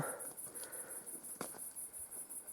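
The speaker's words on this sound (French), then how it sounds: "il y a beaucoup de bruits parasites parce que on entend déjà les grillons" Crickets chirp at night outside the Prieuré de Carluc, a faint, rapid, evenly pulsing trill repeating steadily, with a few soft distant knocks beneath it.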